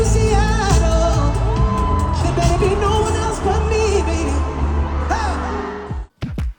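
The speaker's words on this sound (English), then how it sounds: "Seattle took the cake for being one of the loudest crowds on the entire tour" A loud arena crowd at The Weeknd's concert in Seattle whoops, yells and cheers over booming live music, ending in a couple of sharp bangs.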